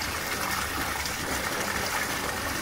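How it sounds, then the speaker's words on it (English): Water gushes forcefully out of an aquarium filter during a cleaning purge, a loud, steady, splashing rush that fills the clip without talk. "look at how much more force comes out of the cleaning purge"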